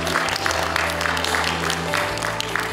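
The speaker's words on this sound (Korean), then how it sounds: "박수 부탁드립니다" Audience applause at a doctoral degree conferral ceremony at Dongguk University, steady dense clapping filling the hall throughout, loud and continuous.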